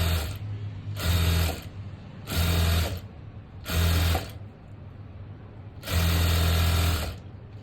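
A sewing machine stitches lining fabric in four loud bursts of fast, whirring mechanical rattle, separated by short pauses filled with a faint background hum.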